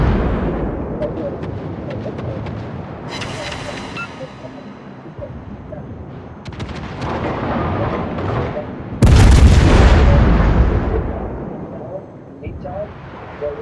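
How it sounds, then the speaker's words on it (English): Torpedoes striking a ship in World of Warships, a heavy booming impact bursting loud midway through ongoing rumbling naval gunfire and engine noise, with someone talking over parts of it. "my torpedoes hit something"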